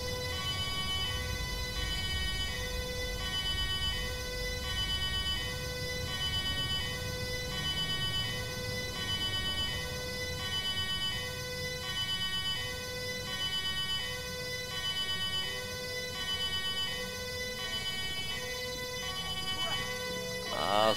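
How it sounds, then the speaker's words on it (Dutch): Emergency vehicle sirens wail in the video game GTA 5, steady electronic tones holding throughout, with a person talking over them. "Ah, ze zetten allemaal sirenes aan."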